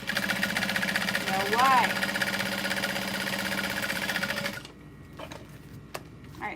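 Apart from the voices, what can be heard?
sewing machine top stitching a backpack strap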